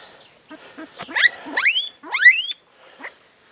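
A boar vocalizes up close with a few short grunts, then two long, loud, rising squealing calls, followed by quieter snuffling.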